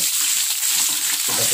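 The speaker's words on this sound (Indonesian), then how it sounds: "Ini tentunya kita cuci sebentar saja," Raw anchovies are rinsed briefly in water while preparing a village-style cassava leaf dish, giving a steady, close hiss of running and splashing water throughout, with a fuller churning swirl near the end.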